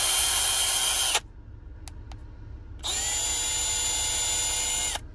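Milwaukee right angle impact wrench runs in two bursts, a loud steady whine of about a second, a pause with two brief clicks, then a second two-second run, close and alone.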